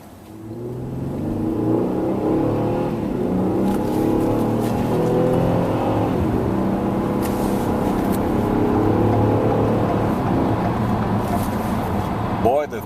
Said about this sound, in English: the 365 horsepower this engine puts out really puts the Sport in this Sport utility